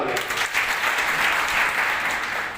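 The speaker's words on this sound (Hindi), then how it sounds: "एक बार उनके लिए जोरदार तालियां" Loud, dense applause from an audience at a district-level Ambedkar commemoration meeting, sustained steady clapping for a couple of seconds with a faint voice underneath.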